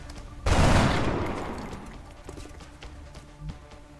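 A burst of gunfire in the strategy game XCOM: Enemy Within breaks out with a sudden loud volley that rattles and then trails off, followed by a few fainter scattered thumps.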